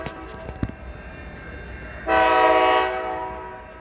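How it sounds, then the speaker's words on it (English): A Tri-Rail commuter train at the MIA station, in a green palm-tree livery, with crossing signals active; a loud, steady horn blast starts about halfway through and holds over rumbling rail noise, then eases slightly. "And it looks like the train has probably stopped there."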